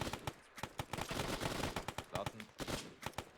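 Suppressive machine gun fire in a war video game set on Hill 20 at Krivoy Rog: rapid, evenly spaced bursts rattle throughout, with shouted voices cutting in over the shooting.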